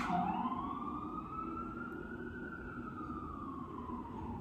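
An ambulance siren wails steadily outside, a sustained rising-and-falling tone that carries clearly for the whole stretch with no talking over it.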